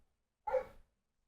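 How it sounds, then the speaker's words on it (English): A single dog bark indoors in a house, one short sharp yap heard alone against silence. "barking dog"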